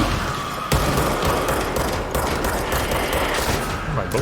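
Gunfire in the video game Control rattles in dense, continuous automatic bursts, loud and close, with a sharp burst of shots partway through.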